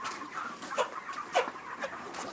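Chickens cluck in short repeated bursts at moderate distance, with a few distinct peaks over a steady background of farmyard noise.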